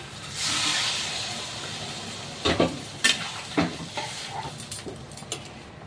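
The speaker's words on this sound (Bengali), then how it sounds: "ভাজা হয়ে গেছে তরকারিটা, ঝোল দিয়ে দেবো।" A potato and paneer curry sizzles in a pan, a broad frying hiss broken by several scraping stirs and clanks of the spoon against the pan.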